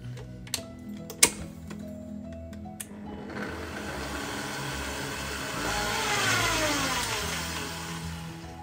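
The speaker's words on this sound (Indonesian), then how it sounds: "sekarang saya lanjut mixer supaya semua bumbu-bumbu dan spices tercampur rata" An electric mixer working cookie dough with spices for lidah kucing biscuits, a few clicks and knocks first, then a steady close motor whir that rises slightly in pitch and loudness.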